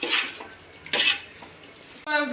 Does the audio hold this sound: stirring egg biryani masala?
yes